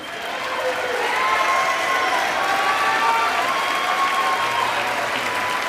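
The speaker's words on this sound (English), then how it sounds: "They're all smiling, clapping." Sustained applause from a large audience in the House chamber during a State of the Union address, loud and steady clapping with light cheering, building in and holding without a break.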